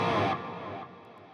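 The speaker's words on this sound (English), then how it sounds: "Now the reverb is just a layer underneath the actual guitar track, supporting it, you know, wrapping it in ambience." Modern metal electric guitar with a reverb layer in Overloud TH3, a dense distorted burst that steps down and fades into a reverberant ambient tail over about a second, no voice.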